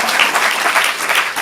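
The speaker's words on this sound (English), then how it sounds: "Give her a round of applause." Audience applause at a student stand-up comedy showcase, a dense, steady clapping that fills the room without pause and rises and falls slightly in waves, with no voices over it.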